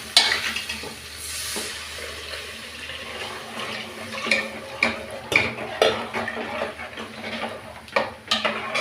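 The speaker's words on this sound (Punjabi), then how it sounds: "ਹੁਣ ਆਪਾਂ ਪਾ ਦਈਏ ਲੱਸੀ" Buttermilk poured into a pan for Punjabi pakora kadhi, a watery splashing and stirring wash with sizzle-like hiss and a few sharper clatters near the end, close and moderately loud with no talking.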